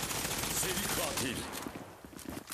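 Rapid PP-2000 gunfire in the mobile shooter Zula Mobile, a dense burst of shots filling the first second and a half before thinning into scattered quieter pops, with faint in-game noise around it.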